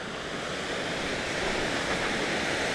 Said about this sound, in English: Palisade Creek has become a waterfall.